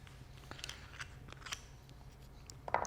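An oyster shell is twisted open with a knife until it pops, heard as close, quiet scraping and clicking with a sharper crack near the end, with no talk.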